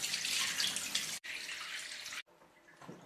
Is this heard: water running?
yes